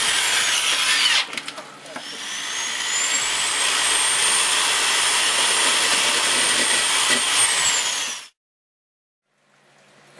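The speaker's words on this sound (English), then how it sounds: "So let's get started on that drilling" A loud, steady high-pitched whine of a power drill boring through a metal knife tang runs for about seven seconds, then cuts off abruptly into silence.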